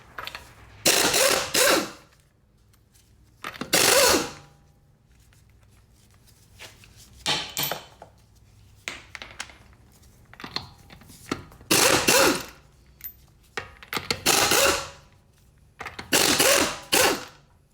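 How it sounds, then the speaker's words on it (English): Lug nuts come off the right front wheel of a Chrysler Town & Country with a 19mm socket. Several loud, close bursts of rapid ratcheting clatter are separated by short quiet pauses. "remove the right front tire, passenger side, and remove them with 19mm"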